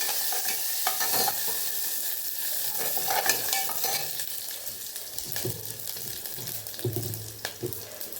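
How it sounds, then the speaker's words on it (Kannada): Steady sizzling of cumin seeds, garlic and curry leaves frying in hot oil, with occasional stirring clatter and spatters, close up and fairly loud, no talking. "ಜೀರಿಗೆ, ಒಂದೆರಡು ಬೆಳ್ಳುಳ್ಳಿ ಮತ್ತು ಕರಿಬೇವಿನ ಸೊಪ್ಪು ಹಾಕಿ ಒಗ್ಗರಣೆ ಮಾಡಿ"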